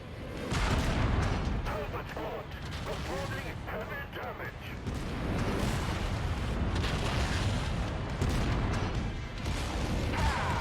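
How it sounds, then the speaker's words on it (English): Incoming missiles explode in MechWarrior 5 as a rolling series of heavy booms and rumbling impacts over about ten seconds, with voices talking amid the constant din of battle. "Incoming missile."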